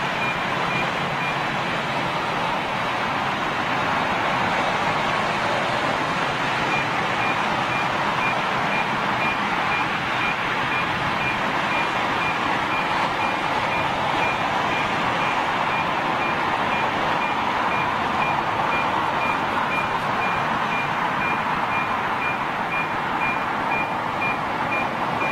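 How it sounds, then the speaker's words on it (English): An alarm beeps at London Heathrow airport during a Virgin Atlantic A350-1000 inaugural departure, with a faint steady tone held over a loud, constant wash of wind and engine noise. "That infuriating beep noise, the alarm, will go very shortly, folks."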